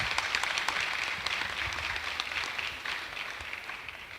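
An audience at a university technology week event claps in a steady, moderately loud burst of mixed hand claps that carries on evenly and softens slightly near the end.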